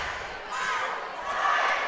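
A cheering squad for Community chants and yells in a high school varsity boys basketball gym, a steady crowd roar that swells near the end.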